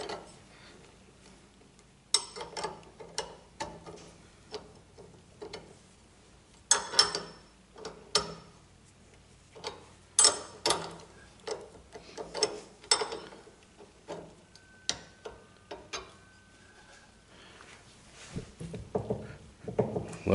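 An anti-rattle clamp on a trailer hitch is tightened by hand, giving a steady run of small ratcheting ticks and clicks that come in uneven clusters, close by and fairly quiet.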